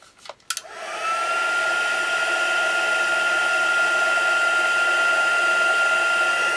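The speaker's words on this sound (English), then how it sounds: "now I'm going to dry it off a bit" After a couple of clicks, a hair dryer switches on and runs as a steady, loud whir with a high tonal whine while drying modeling paste texture, continuing alone without talk.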